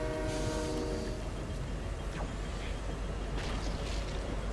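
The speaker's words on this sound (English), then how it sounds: "I'm just gonna ride the train a little bit" A train ridden in the video game Fortnite rumbles and clatters steadily, with a sustained horn-like tone sounding near the start; no one talks.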